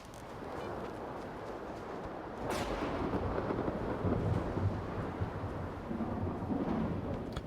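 Thunder from a lightning storm in S.T.A.L.K.E.R. 2: Heart of Chornobyl, a deep sustained rumble that swells after a sharp crack and keeps rolling at a loud, steady level with no voices.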